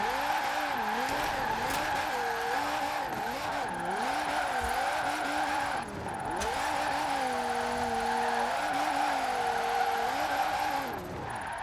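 A car engine revving in Forza Horizon 4, a steady loud engine tone that rises and falls as the revs are pushed up and eased off, with occasional tire squeal and no voices.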